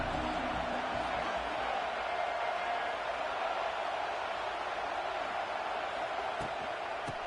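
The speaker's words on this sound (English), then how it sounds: "This crowd ready to make its presence known." A football stadium crowd roars in a steady, dense wash of noise that holds level throughout, loud and continuous with no breaks or single voices standing out.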